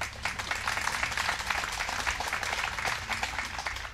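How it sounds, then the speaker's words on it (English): A live audience at a talk on immigration applauds steadily, a dense wash of clapping that holds at an even level for several seconds. "pause for the applause"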